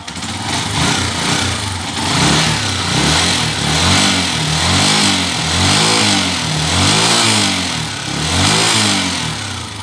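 A TMX125 Alpha motorcycle engine revs repeatedly up and down in loud, rhythmic surges, with a persistent clattering tick running through it from a worn, noisy engine.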